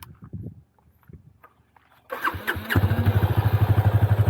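Yamaha FZ25 motorcycle engine starting after a few quiet handling noises, then settling into a bassy, pulsing exhaust idle that beats steadily and loudly up close.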